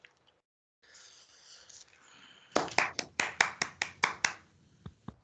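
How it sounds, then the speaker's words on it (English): Brief applause for a director at a valedictory academic session comes as about ten sharp, evenly spaced claps from a small audience, loud and close, after a quiet lead-in. "I request our enlightened audience to give a huge round of applause to our esteemed director, Professor Dr."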